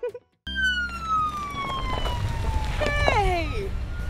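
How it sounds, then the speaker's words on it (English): A police car siren wails close and loud in long falling sweeps after a brief cut, with a short warbling yelp near the end, over background noise. "Look at what I just rode up in! Yeah, it's a police car!"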